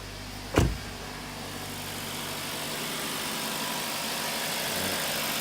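A 2012 Hyundai Sonata Hybrid 2.4-litre engine starts with a brief thump, then settles into a steady, even idle after a head gasket replacement, heard close and continuous.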